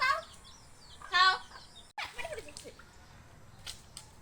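A village hen clucks while being fed, giving a few close, soft clucks with a louder burst of calls in the middle and quieter rustling between them.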